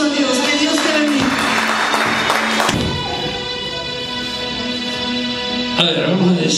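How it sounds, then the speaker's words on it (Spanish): Church congregation applauding and cheering after a call to praise God, a dense burst of clapping with voices and music-like tones mixed in, loud and sustained before thinning out. "Dale un aplauso a Dios."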